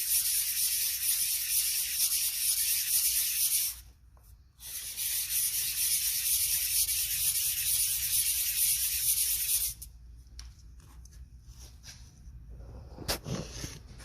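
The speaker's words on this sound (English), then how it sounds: "Make sure you use all your sandpaper instead of staying in one spot too." Steady, loud abrasive rasping of a ring rubbed on sandpaper, continuous for several seconds with a brief pause, then fainter intermittent scraping and a few small knocks toward the end.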